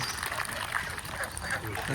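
Domestic ducks, white and brown egg-laying birds, quack repeatedly in a steady chorus close by over a constant background hum, with voices faintly mixed in.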